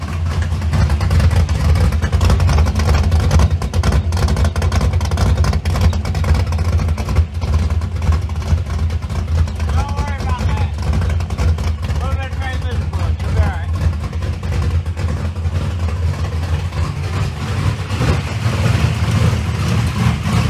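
Third-generation Camaro V8 with a new MSD ignition system runs steadily and loud throughout, a dense continuous engine rumble with faint revving and a voice talking briefly over it midway.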